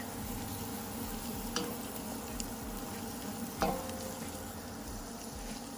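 Onion sizzling softly in hot olive oil, a steady gentle frying hiss broken by a few brief scrapes of stirring.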